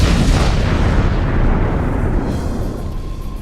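A loud, close explosion in a video game, a dense roaring boom that fills the whole moment and slowly rumbles away.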